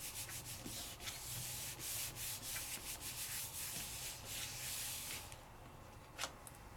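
The back of a rubber background stamp is rubbed by hand over paper, making a continuous soft scratchy rubbing that runs quiet and close, with a few faint taps near the end.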